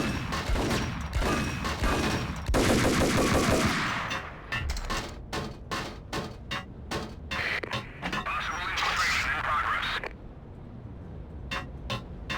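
Gunfire in the Max Payne game: dense bursts of rapid shots, then a run of sharp separate reports, loud and close, layered over a busy game mix with a voice talking at times.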